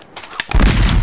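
Musket volley in the video game Battlegrounds 1.2.1 during a line battle, a single loud, close boom after a brief faint shot, then a heavy sustained rumble of the volley.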